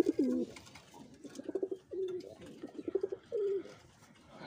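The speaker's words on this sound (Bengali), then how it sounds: "আসলে এগুলো হচ্ছে আমার সে প্রিয় কবুতরগুলো" Giribaj pigeons coo in soft, repeated low rolling calls, several phrases spaced across the moment, close and fairly quiet with no talk.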